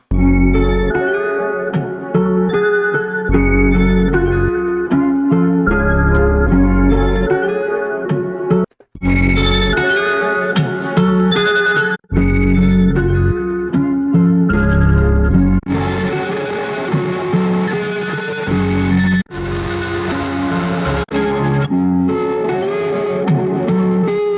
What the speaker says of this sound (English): This plugin's like a guitar amp simulator